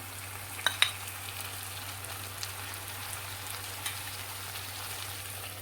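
Brinjal and tomatoes fry in oil with a continuous soft sizzle and a low steady hum beneath it. A few sharp clicks and pops stand out near the start.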